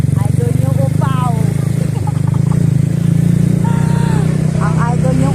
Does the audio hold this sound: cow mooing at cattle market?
no